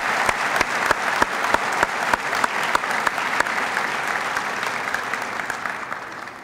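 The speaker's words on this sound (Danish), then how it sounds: "Jeg synes, vi skal klappe af jer selv." Audience applause at a DTU graduation ceremony, a dense crowd clapping with sharp individual claps standing out, loud and sustained before slowly thinning at the end.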